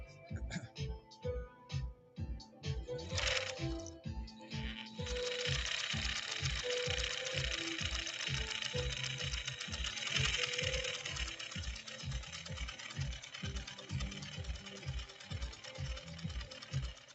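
Steady rhythmic whirring and needle clatter of a 1950s Pfaff 130-6 sewing machine running a zigzag stitch, close up, pausing briefly early on, then running continuously.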